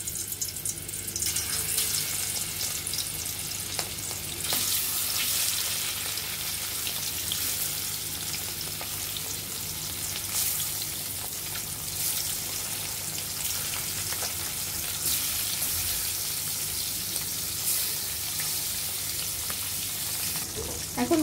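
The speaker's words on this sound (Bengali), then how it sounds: "আমরা এখন মাছগুলো তেলে ভেজে নিব।" Shing fish frying in about a spoonful and a half of white oil in a wok, a continuous close crackling sizzle with occasional bursts of spitting and faint stirring, steady for the whole stretch.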